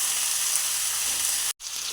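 Ivy gourd (dondakaya) pieces frying in a pan with turmeric, a steady close hiss of sizzling oil with a brief break as they are stirred.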